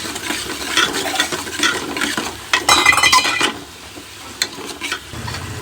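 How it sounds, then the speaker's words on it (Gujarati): Green onion is stirred into a jinjra (green chickpea) vegetable curry, with spoon scrapes and clinks against the pot over a soft sizzle, including a louder burst of stirring midway, close and without talk. "હવે નાખશું આપણે લીલી ડુંગળી અને કરીએ મિક્સ"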